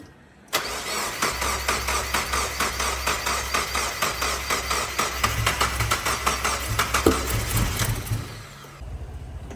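Turbo Miata engine with a weak, nearly dead battery cranking over and over in a rapid, laboured rhythm, loud and close, then faltering and dropping off near the end without catching.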